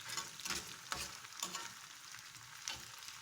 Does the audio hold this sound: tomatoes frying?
yes